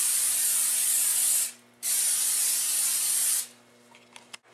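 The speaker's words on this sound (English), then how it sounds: "spray them with a non-stick spray" Non-stick cooking spray hissing onto a flat baking sheet in two close, steady bursts, the first about a second and a half and the second nearly two seconds, followed by faint handling clicks.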